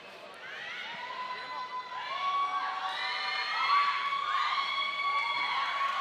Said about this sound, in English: Some really loud crowd support for the Singh Patong fighter